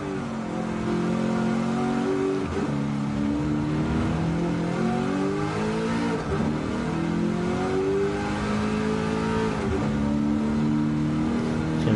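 Ford Mustang race car engine in a racing video game, revving steadily and loud with a rising and falling pitch as the throttle is eased on and off, continuous throughout.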